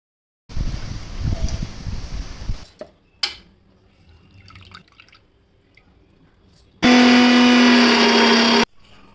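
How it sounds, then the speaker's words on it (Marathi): A mixer grinder grinding soaked rice whirs briefly, goes quiet with some faint rustling and clinks, then starts again with a louder, steady, droning grind. "मिक्सरमध्ये एकदम बारीक करायचं"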